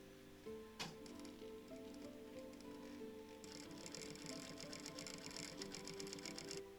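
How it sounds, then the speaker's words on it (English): A sewing machine stitches up a furry puppet arm, its needle running in a steady rapid patter that starts partway through, close and clear over a background of soft musical tones. "So we're going to sew that up on the sewing machine."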